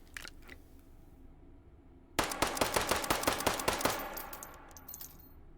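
A .22 pistol fired in the H3VR virtual reality game, a quick string of about a dozen sharp, evenly spaced shots, loud and close, after a quiet start with a few small clicks.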